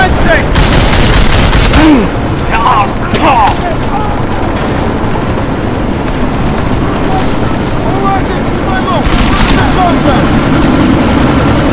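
A military helicopter roars in a sandstorm in Deus Ex Mankind Divided, a loud steady rotor drone under bursts of automatic gunfire and sharp impacts.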